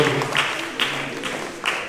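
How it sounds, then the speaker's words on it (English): Audience applause at a formal awards ceremony honoring young African leaders, steady crowd clapping with a few sharper bursts, moderately loud and continuous throughout. "Ladies and gentlemen, a round of applause for His Royal Highness"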